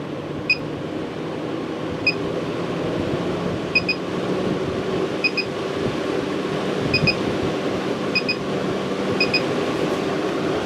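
A MaxxFan 06200K roof vent fan hums steadily throughout while short electronic beeps sound at intervals, several of them in quick pairs, the double beep marking top speed.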